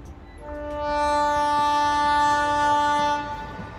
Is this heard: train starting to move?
yes